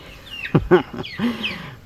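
A chicken gives a short burst of clucks close by: a few quick, throaty notes and then a longer drawn cluck, fairly quiet over a soft background.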